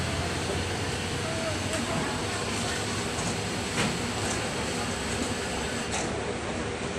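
A Simpati Star intercity bus sits waiting to depart, with a dense, steady engine and air-conditioning rumble filling the whole stretch and faint clicks on top, while voices speak under the noise.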